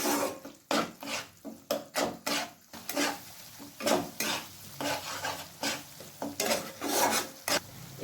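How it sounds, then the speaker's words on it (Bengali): Cashew paste being stir-fried with spice masala for a rohu fish kofta curry, with a spatula scraping and clattering against the pan in a steady run of strokes over a soft sizzle, close and fairly loud. "আবারও আমি মশলার সাথে ভালোভাবে কষিয়ে নেব কাজু বাটাটাকে।"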